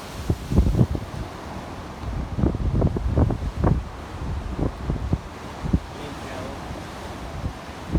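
Wind buffeting a microphone on the Pacific Ocean coast, with rough gusty rumbles and surging noise that could be surf, loud and continuous, with brief voices in the mix.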